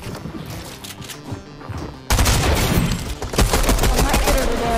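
Gunfire from the video game Fortnite: after a quieter stretch of gameplay noise, a loud, dense burst of rapid shots and impacts begins and carries on to the end.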